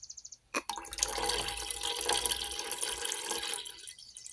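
Tap water poured from a bottle onto the side of a wick during a vape coil rewicking, a steady close splashing and trickling stream lasting about three seconds after a brief click of the cap.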